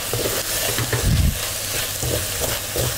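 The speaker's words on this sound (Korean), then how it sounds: "휘저어 주시면" Spicy Korean pork jeyuk bokkeum is stirred and fried in a pan, giving a close, steady sizzle and a brief louder scrape of the spatula with no talking.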